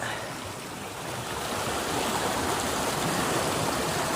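Clear, cold stream water flows steadily nearby, a full broadband rush that swells a little louder toward the end, with no voices over it.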